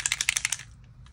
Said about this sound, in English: you definitely want to give this a good shake